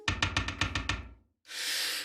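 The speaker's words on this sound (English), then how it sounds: "Knock on wood." A knock-on-wood sound effect from a mixing console: a rapid series of about eight hollow knocks on wood, evenly spaced and close, followed by a short burst of hissing noise.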